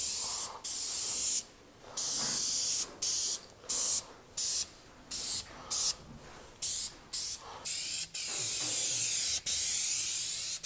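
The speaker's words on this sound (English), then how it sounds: "So while I'm spray painting this, I'm gonna hit all those areas that are gonna have like a hard time getting into." Spray paint can coating a wood stove, a series of sharp hissing bursts of varying length separated by short pauses, ending in a longer continuous spray.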